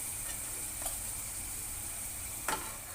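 Potatoes frying in hot oil until golden, a steady, even sizzle with a crackle or two, close and alone with no voices.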